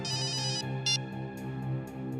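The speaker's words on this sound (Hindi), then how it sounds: "सर, मेरी वाइफ का फोन है सर।" A mobile phone rings with an incoming call from the caller's wife, a tonal melodic ringtone with bright bursts over a steady background, heard alone without talk.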